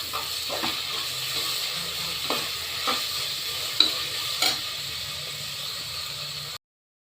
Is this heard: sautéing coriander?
yes